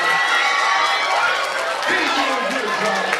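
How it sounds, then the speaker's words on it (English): Audience at a school poetry slam applauding and cheering, a dense, continuous wash of clapping and crowd noise held at steady loudness throughout, with some voices mixed in. "Give her a big round of applause."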